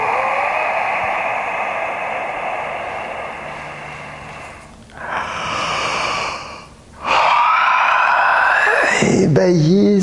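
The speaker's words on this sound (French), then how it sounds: "Et puis inspirez, expirez." A person breathes slowly in and out during a yoga session, with long airy inhales and exhales separated by short pauses and a brief voiced sound near the end.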